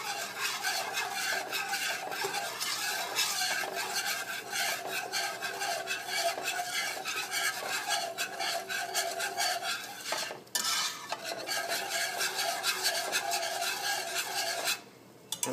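A spoon scrapes and stirs steadily through butternut squash mac and cheese sauce in a pot, a continuous rasping, rubbing sound with brief pauses, close and fairly loud, without any talk.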